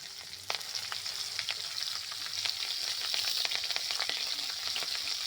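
Chillies fry with chopped garlic in a wok for prawn chilli, a loud, constant sizzle dotted with sharp pops and the clack of stirring, swelling slightly toward the end.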